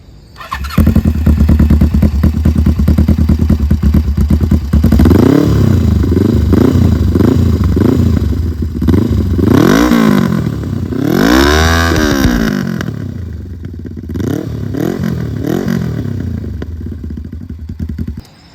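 A Suzuki GS 500E motorcycle engine idles steadily, then revs repeatedly in rising and falling bursts, loud and close, before settling back to a rumbling idle.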